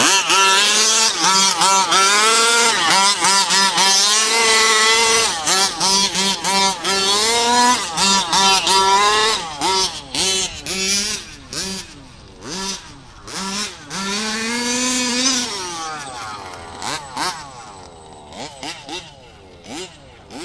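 A modified 30.5 piston-port nitro engine in an RC car screams loudly and up close, its pitch sweeping up and down through repeated revs and then fading toward the end.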